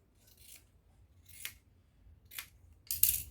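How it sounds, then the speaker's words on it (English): Scissors snip through T-shirt fabric while a neckline is cut out: four separate crisp cuts spaced about a second apart, close up in a quiet room, with the last cut the loudest. "then cut out for the neck depth"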